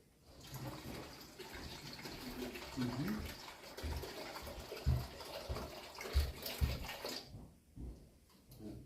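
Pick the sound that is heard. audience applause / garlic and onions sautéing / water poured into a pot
water poured into a pot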